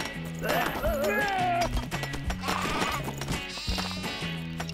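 Sheep bleating in the video game Craft The World, several wavering bleats over a repeating stepped musical background, fairly loud and close.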